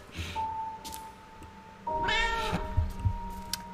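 A cat meows in the video game Burnhouse Lane, one drawn-out, wavering cry in the second half, close and clear over faint game ambience and a thin steady tone.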